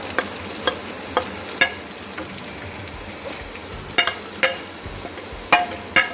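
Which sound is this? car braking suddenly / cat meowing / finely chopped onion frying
finely chopped onion frying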